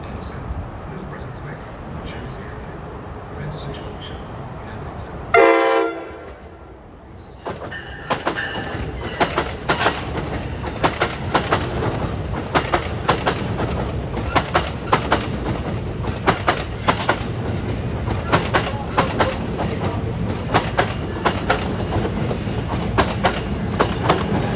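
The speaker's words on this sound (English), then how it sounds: "We have a Trenton train arriving on B at 2:18." A New Jersey Transit train bound for Trenton pulls into the station, a loud sustained rumble with rhythmic wheel clatter and a brief squeal, following a short spoken announcement over a background hum.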